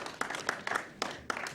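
A small audience at a Burkina Faso television programme launch gives brief, fairly quiet applause in uneven bursts of clapping.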